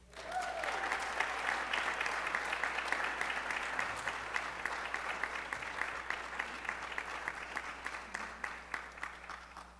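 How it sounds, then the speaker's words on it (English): Audience applause at a school board meeting, building quickly into steady clapping with a few individual claps standing out near the end, over a low hum. "Would you please give a huge round of applause"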